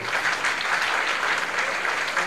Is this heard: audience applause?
yes